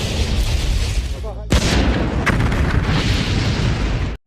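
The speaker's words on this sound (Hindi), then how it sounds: "कोलंबिया स्पेस शटल में एक धमाका हो" A deep, loud explosion of the Columbia space shuttle rumbles continuously, with a sudden sharp surge of blast noise partway through before cutting off abruptly.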